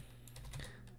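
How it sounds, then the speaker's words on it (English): A command is typed on a computer keyboard, several quick, faint key clicks in an uneven burst, close by, with no talk over them. "So we could simply do that just by typing ln"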